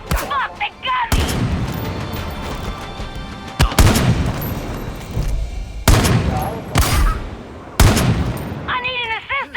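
Loud sniper and gun blasts in the video game Far Cry 5 crack out in several heavy bursts separated by short gaps, with shouting voices between and around them.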